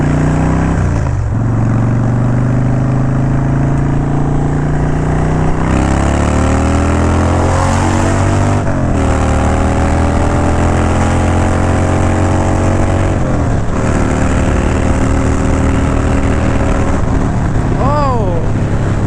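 A Harley-Davidson Dyna motorcycle engine rumbling loud and steady while riding, pitch rising and falling through gear changes and throttle shifts, with wind noise over the top.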